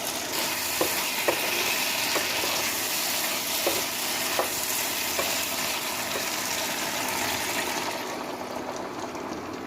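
Cornflour slurry is stirred into a dish that sizzles and fries steadily, with a few light utensil taps against the pot under the constant hiss before the noise drops away near the end.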